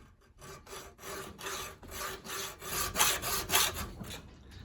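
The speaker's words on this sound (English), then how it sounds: "I'm going to attempt to cut through this with the hacksaw" Hacksaw cutting into an Allez U lock, a run of even back-and-forth rasping strokes, close and growing louder, about eight strokes with brief gaps between them.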